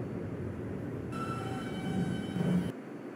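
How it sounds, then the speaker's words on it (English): An R142 car on a New York subway Eastchester-bound 5 local train runs along the track with a steady low rumble and faint whine, a brief higher hum joining midway before the sound drops off. "This is an Eastchester bound 5 local train."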